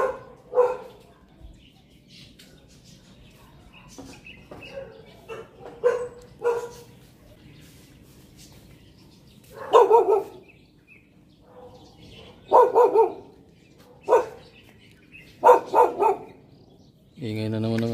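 A dog barks in short bursts, a few at a time with pauses between, fairly close, while someone speaks at intervals and birds chirp faintly.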